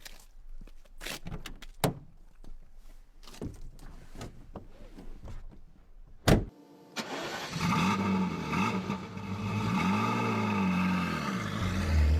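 A Ferrari F40 from the 1980s, an old-school supercar, fires up after a series of sharp clicks and door thuds, then settles into a loud, close, steady idle with rising and falling revs.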